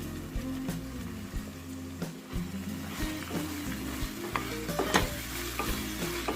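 Mint and coriander are stirred into masala frying in oil for egg biryani, a steady close sizzle broken by repeated scraping knocks of the spoon against the pan, with no talking.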